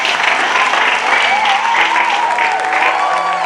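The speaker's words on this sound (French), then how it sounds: "Acclamons pour la gloire de Dieu." A church congregation at a Kinshasa tabernacle applauds together in a sustained, dense wash of clapping with crowd voices under it and a bright tone running through, loud and steady for the whole stretch.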